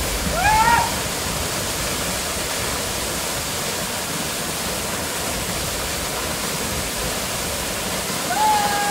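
A small waterfall in the Sahyadri hills pours with a steady, close rushing roar that holds without a break, with a couple of brief high chirps near the start and end.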